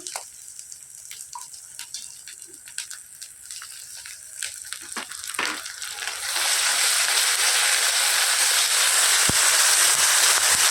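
Water splashes into a hot pan of chili paste for a chital fish curry, shifting from scattered spitting crackles into a loud continuous hissing rush.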